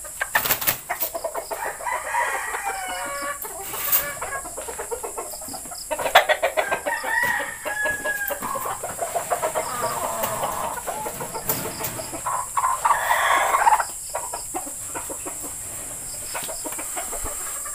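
Breeding roosters and hens in a breeder's yard, repeated clucking calls and a few crows near and far, with occasional wing flapping across the stretch.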